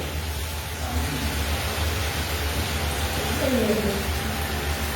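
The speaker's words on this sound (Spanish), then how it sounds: "está lloviendo." Rain falling steadily as a broad hiss throughout, with a faint bird call drifting through in the distance.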